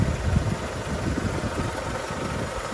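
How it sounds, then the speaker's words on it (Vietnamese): A 7-seat automatic car idles with the hood open, its engine a steady, low mechanical hum with a fine rhythmic patter and no revving. "Hiện tại em đang nổ máy lên cho các bác mình nghe đấy ạ."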